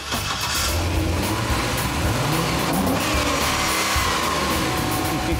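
A 6.2-litre LS3 V8 car engine runs loud and close, a dense continuous rumble with slight rev changes and no talk over it.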